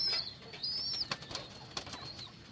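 Pet pigeons of an old breed, including brown-necked birds, make soft coos and thin, high calls in a loft, with a few short flutters and knocks in between.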